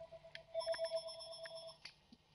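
A telephone rings in a video game, a faint electronic trill with a few bright repeated pulses, heard alone without talk.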